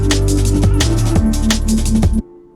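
A reversed vocal chop used as a riser transition in Ableton, laid over a loud full mix with heavy bass and drum hits, ending in an abrupt cutoff and a brief low tail.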